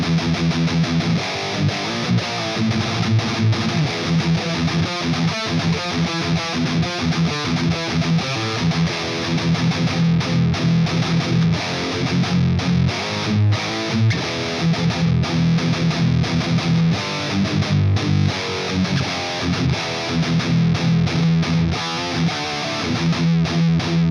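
High-gain distorted electric guitar through a Universal Audio Anti 1992 pedal into a 4x12 cabinet with V30 speakers, Mesa Boogie style, playing dense palm-muted metal riffs, loud and continuous with no talking.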